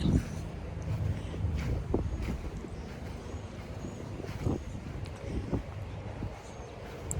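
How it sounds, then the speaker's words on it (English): Strong wind gusts outdoors in a public rose garden in Orangeburg, South Carolina, buffeting the microphone as a continuous low rumble with occasional louder bursts. "the wind is really picking up today"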